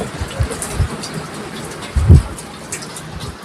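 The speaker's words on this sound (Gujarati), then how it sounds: "आसमान में से पानी टपकता है" Rain falls in a steady patter with a few heavier thuds and splashes close by, the downpour continuous and fairly loud.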